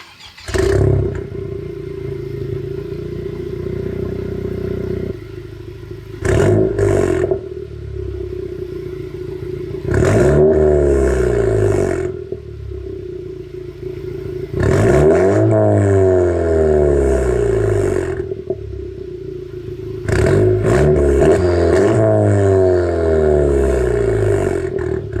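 A 10th-gen Honda Civic Si with a Remark catback exhaust, PRL downpipe and Hasport rear mount, accelerating hard through several gear pulls, its loud raspy exhaust note rising in pitch, dropping briefly at each shift, then climbing again.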